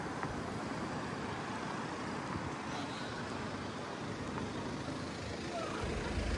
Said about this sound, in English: Quite a lot of cars here